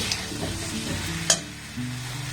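A spoon stirring a thick, moist apple filling for pitha in a pan over a low-to-medium gas flame, with soft scraping and a light sizzle, one brief sharper clink, steady and close with no talk.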